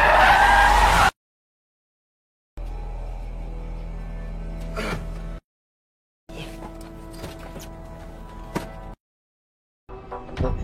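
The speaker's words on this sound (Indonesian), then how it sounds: "Satu tembakan mengenai ban mobilnya yang menyebabkan mobil itu terguling." Car tires screech in a brief skid as a shot tire sends the car rolling over, followed by choppy bursts of vehicle noise broken by sudden stretches of silence.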